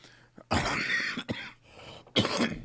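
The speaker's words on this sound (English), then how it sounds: "I seem to always have a cough" A person coughs close by, two separate throaty coughs with a short pause between them.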